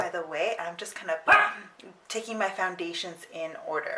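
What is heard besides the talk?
dog barking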